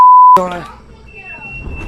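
A home carbon monoxide alarm sounds one loud, steady electronic beep lasting about a third of a second. A voice and other indoor noise follow right after it.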